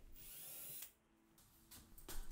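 A power drill pre-drilling screw holes in a built-in cabinet face, with quiet whirring bursts that start and stop in short runs, separated by brief pauses.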